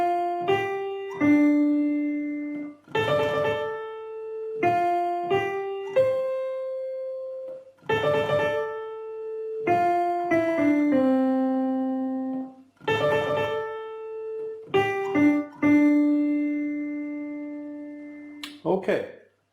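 Piano right hand playing a beginner finger exercise around middle C and the D below, single clear notes in a steady stepwise pattern, repeated phrases with held notes, close and alone.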